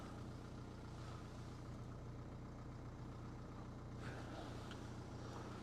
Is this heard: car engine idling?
yes